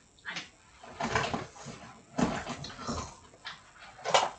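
A dog whimpers and yips in several short high bursts at close range, with quiet gaps between the cries and no clear speech.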